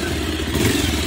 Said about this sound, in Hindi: बजाज पल्सर 220F रो सबुठार 2024 रे मते जहाँ सबुठार अधिक भल लगे सेटा हूँ एग्जॉस्ट नोट